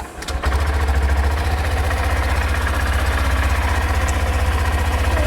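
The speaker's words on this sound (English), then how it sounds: "Okay, I'll start the engine." A Honda CB125F motorcycle engine cranks and catches within a split second, then settles into a steady, loud single-cylinder idle with an even low throbbing pulse.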